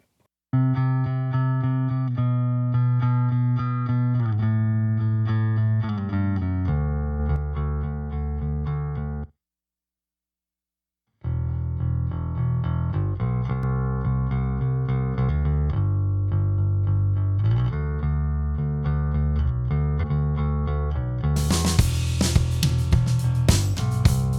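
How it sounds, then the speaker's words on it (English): A bass line from a pop mix plays with an LA-2A compressor switched in and out. The playback is steady and prominent, with a short silent gap partway through and brighter instruments joining near the end. "Here's the bass, and I'll take it away so you can see it."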